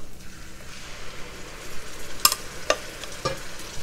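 Blended mixture going into a hot pot for peanut butter soup, a steady faint sizzle with a few sharp scraping clicks from stirring, close, with no voices.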